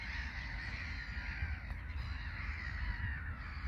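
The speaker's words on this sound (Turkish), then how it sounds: "Martılar." Seagulls calling over a steady, even background wash, their cries blending into the noise without any talking.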